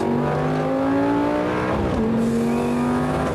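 A Lamborghini Gallardo SE in sport mode accelerates hard, its engine note loud and continuous, climbing in pitch and dipping briefly at a gear change before pulling up again.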